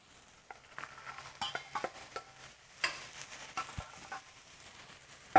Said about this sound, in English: So we add the peas.